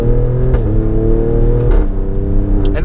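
Engine of an Alfa Stelvio Quadrifoglio with 510 hp, revving up, then briefly dropping pitch during a couple of quick gear shifts, each marked by a short crack before it pulls again, loud and close.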